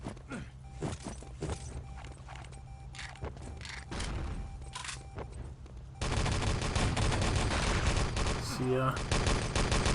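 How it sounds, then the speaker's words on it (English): Rifle grenades and gunfire in a competitive Enemy Territory match, a dense barrage of loud explosive bursts and rapid shots that swells sharply midway, with brief commentary voices underneath. "more rifle grenades shot out"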